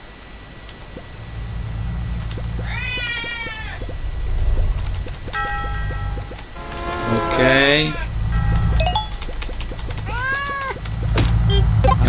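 The Lucky Cat character in a smartphone car game gives several short, wavering meows over a low rumble of engine or traffic noise, while someone speaks briefly.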